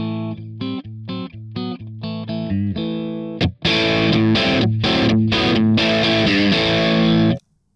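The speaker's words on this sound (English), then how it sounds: "Listen to this slightly distorted sound that reacts to the guitarist's playing." A Kemper Profiler amplifier stack gives electric guitar a light, gritty overdrive: a run of short picked notes, then heavier strummed chords that crunch more and ring out before stopping.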